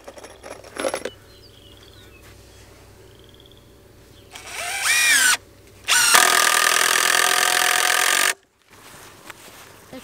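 A power drill drives screws in bursts: a short whine, then a longer steady run of buzzing, separated by quiet pauses with faint background noise.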